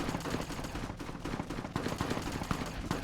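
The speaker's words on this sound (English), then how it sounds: "I'm hearing more gunfire." Rapid bursts of gunfire in the video game Fallout: New Vegas crackle continuously, dense and fairly loud, like a distant firefight with overlapping shots.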